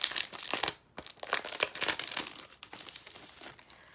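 Dollar Tree sticker packs handled up close, a loud, continuous crinkling of plastic packaging in quick bursts with one brief pause, no talking.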